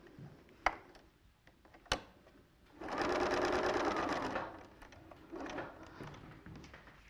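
A sewing machine stitches patchwork for a log cabin quilt in two short close whirring runs, the first longer, preceded by a couple of sharp clicks and taps.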